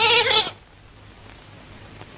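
A goat, kept with cattle, gives one loud, close, quavering bleat, followed by near silence and a faint rustle at the end.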